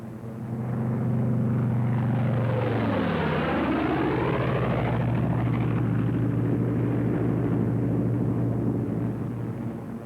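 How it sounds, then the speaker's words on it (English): Military propeller planes fly in loose string formation, one behind the other, with a loud, close engine drone whose pitch swoops sharply downward as they pass overhead, then a sustained rumble fading slowly away. "Leader section goes into loose string formation, one plane behind the other."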